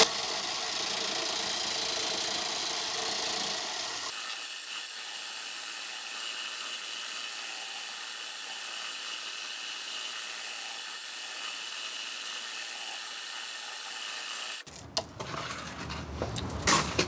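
A drain-cleaning chain built for cast iron spins on a high-torque shaft inside PVC pipe, giving a loud continuous grinding rattle and whir that holds steady, then breaks into harsher clattering near the end.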